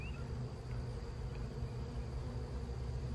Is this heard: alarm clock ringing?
no